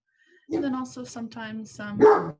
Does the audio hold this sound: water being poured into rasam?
no